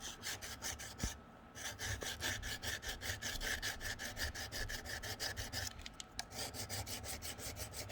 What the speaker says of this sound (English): So you kind of open the blade up a little bit, sharpen it, same way.